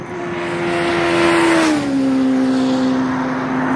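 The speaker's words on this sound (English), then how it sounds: "Look at this guy driving on a motorcycle." A motorcycle driving past on a road, a loud, close engine tone that swells and then drops in pitch as it goes by.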